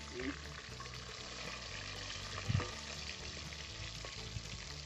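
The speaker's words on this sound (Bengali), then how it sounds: "মাছগুলো এক পিঠ করে ভেজে নিয়েছি, তারপর একটু উল্টে দিচ্ছি মাছগুলো" Pieces of stingray fish fry in hot oil with a steady broadband sizzle, and a brief clunk near the middle as the pieces are turned over.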